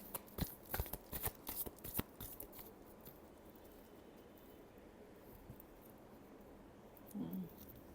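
Tarot cards are shuffled in a quick cluster of soft, close riffles and flicks during the first couple of seconds. Near silence follows, with a faint rustle later on.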